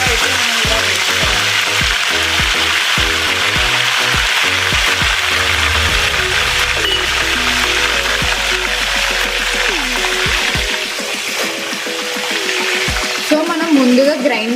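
Coriander, cumin and mustard seeds sizzle and crackle in hot oil while a spoon stirs, loud steady frying with rapid popping, later softening to a gentler hiss as the pan settles; no talking.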